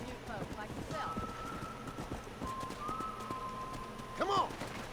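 Horse hooves clip-clopping in the Red Dead Redemption game, a steady trot under game dialogue and ambient sound, with a brief louder burst near the end.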